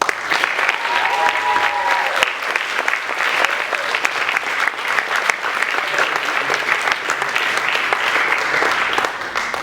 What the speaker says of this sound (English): Let's give a big round of applause to their Army.